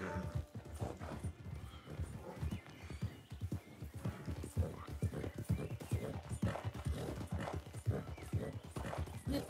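Steady clip-clop of horse hooves trotting at an even rhythm in Red Dead Online, with a brief whinny amid a busy, continuous game background.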